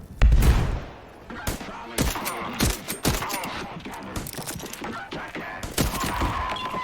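Rapid bursts of gunfire from the survival crafting game VoidTrain crackle in close, repeated volleys, with a loud opening blast followed by scattered shots.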